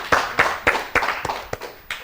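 Clapping for a contestant on a children's quiz show, a few sharp, separate claps spaced about every quarter to half second, close and fairly light, without a full crowd roar.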